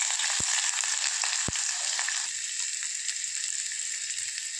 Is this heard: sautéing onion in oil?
yes